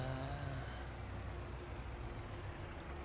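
A farm vehicle engine idles in Farming Simulator 22, a steady low rumble with a faint tonal hum at first, running continuously and evenly with no talking.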